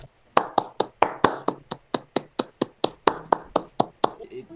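A single person claps in a steady run of about seventeen sharp, evenly spaced claps, close and loud, with faint background murmur between them.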